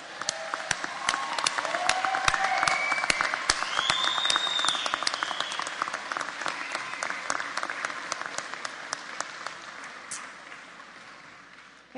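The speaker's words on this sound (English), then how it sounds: "please stand in turn and applaud those to show your appreciation" Degree candidates at a 2014 evening commencement ceremony stand and applaud, a loud, sustained wash of many hands clapping that swells and then slowly fades, with a few faint voices in the crowd.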